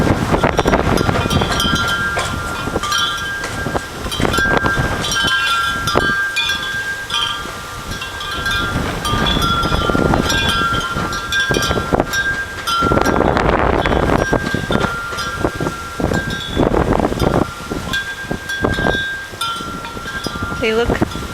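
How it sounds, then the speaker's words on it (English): Strong wind blowing outdoors around birds, buffeting the microphone in a constant loud roar with gusts and rustling throughout. "I hope this wind is not going to interrupt our filming here."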